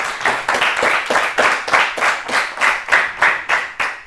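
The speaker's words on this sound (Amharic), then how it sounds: "በደንብ አጨብጭቡላቸው" An audience applauding contestants at a children's TV competition, a steady close round of clapping pulsing in waves throughout, with no speech over it.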